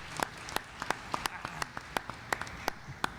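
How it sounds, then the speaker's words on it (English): Scattered, fairly faint clapping from a small audience at a mayoral debate, individual claps standing out in a loose, uneven rhythm. "Give them a round of applause one more time."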